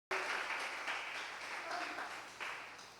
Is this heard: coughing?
no